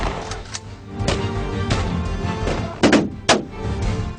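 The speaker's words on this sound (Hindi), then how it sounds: "फायरिंग हो रही है नाज़रीन," Gunfire rings out during a police raid, with sharp shots cracking in quick pairs and singles over a constant rushing background, fairly close and loud.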